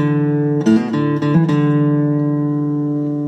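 Acoustic guitar picking a short single-note run on open strings with hammer-ons, from an easy three-chord cover of a song; sustained ringing notes change a few times in quick succession, close and alone.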